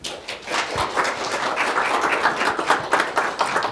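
An audience at a talk welcomes a guest speaker from an education initiative with dense, steady applause that holds at an even level throughout.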